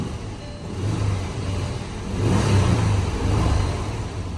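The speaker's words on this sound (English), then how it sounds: "you have the unmistakable starter noise of a W12," A 2014 Bentley Flying Spur W12 engine starts up with a steady mechanical whir that rises into a swelling engine rumble, heard close and continuous without talk.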